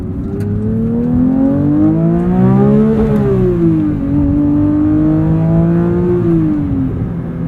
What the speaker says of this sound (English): Pretty wicked rev limiter there too.